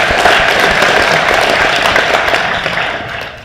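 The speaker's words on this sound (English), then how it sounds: "Can we get a round of applause for him also," Crowd applause at the 31st annual Ozark Area Racer Reunion, loud dense clapping from many people that begins strong and slowly tapers off.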